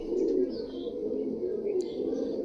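Paired homing pigeons coo softly and steadily close by, with a few faint chirps above the murmur and no talking.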